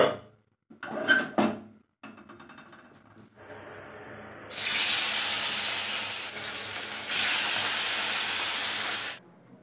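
A few clatters come first, then fish frying in a pan bursts into a loud, sustained sizzling hiss that briefly dips and surges again before cutting off.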